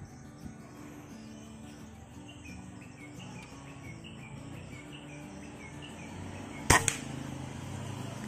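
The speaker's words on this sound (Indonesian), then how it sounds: "Tembakan pertama guys." A single sharp shot from a 2021 Killua 160cc air rifle firing Samyang pellets at 840 fps toward a target 27 metres away, cracking out near the end over a steady outdoor backdrop of crickets and birds.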